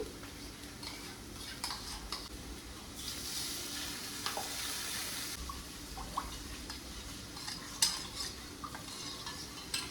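Yogurt, salt, chili and garam masala go into okra frying in a pan, bringing a steady sizzle with scraping and stirring of a spoon against the pan, fairly quiet and with no talking.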